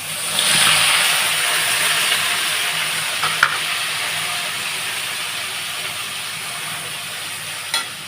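Ground spice paste hits hot oil while kalia cooks, making a loud, broad hiss that swells at first and then settles into a steady sizzle, with a couple of faint utensil clicks.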